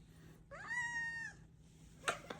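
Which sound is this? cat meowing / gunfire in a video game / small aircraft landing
cat meowing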